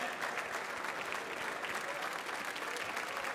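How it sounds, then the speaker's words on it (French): Steady, dense applause from an audience at the Coupe de France des Fromagers cheese competition award ceremony, sustained evenly throughout at a fairly low, slightly distant level with no talk over it. "on va faire un moment d'applaudissement"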